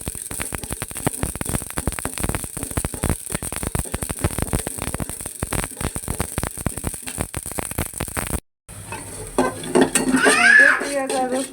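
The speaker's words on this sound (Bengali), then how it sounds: "পেঁয়াজ আর রসুনটা আমি সুন্দর করে ভাজে নিব এখন জন্য, এতে ফ্লেভারটা ভালো আসে।" Kitchen pan sounds as onion, garlic and green chilies are fried, with dense clattering and stirring scrapes over a sizzle, loud and close, then a short break followed by quieter stirring.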